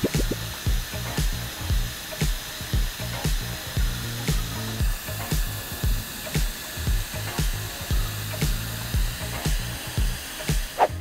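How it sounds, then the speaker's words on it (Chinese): A Solark hair dryer runs at maximum airflow, giving a steady loud whirring motor and rushing air with a faint rhythmic pulsing roughly once a second throughout. "这个价值6280的 Solark 的吹风机，那我们就是一样的距离，风开到最大"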